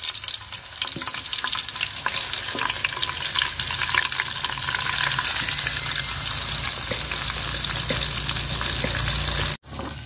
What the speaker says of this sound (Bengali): তো মুরগিগুলো আমি হালকাভাবে ভাজা নিচ্ছি, যেহেতু দেশি মুরগি।